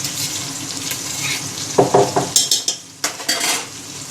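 Ginger garlic paste sizzles in a pan with onions while a spoon scrapes and clinks against the metal in quick repeated strokes.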